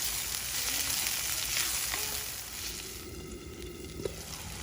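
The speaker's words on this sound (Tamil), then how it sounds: "அடுத்தது நம்ம தக்காளி போட்டு நல்லா வதக்கிடலாம்" Tomatoes sauté in a pan for a Chettinad-style South Indian bitter gourd curry, making a close, steady hissing sizzle that eases slightly partway through and has one brief clink near the end.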